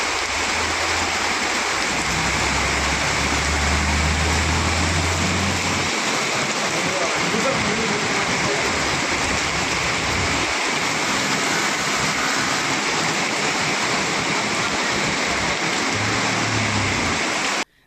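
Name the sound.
heavy rain pouring on streets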